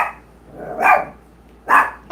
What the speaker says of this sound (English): Oh, there's dogs out there.